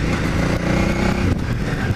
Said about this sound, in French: on sent vraiment que ce moteur, il en veut. Et nom de Dieu que c'est rageur.